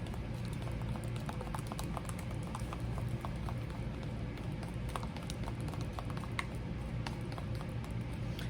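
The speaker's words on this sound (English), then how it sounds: "here I have my Megix Lift 9 and I'm just gonna mix that up really" Megix Lift 9 hair lightener stirred in a bowl, a close, steady run of soft, quick, wet clicks and taps from the mixing.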